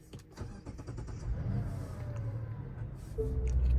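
2024 Mazda CX-90 Preferred Plus starting up, with a quiet cabin click and starter whir followed by the engine catching and settling into a smooth, steadily rising hum.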